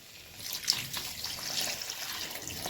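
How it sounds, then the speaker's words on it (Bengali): Water is poured into a simmering Bengali fish curry of bhetki with potato and bori, a steady close splashing and trickling stream running throughout with no talk over it. "এতে একটু জল দিতে হয়, এখন জলটা ফুটে আসবে"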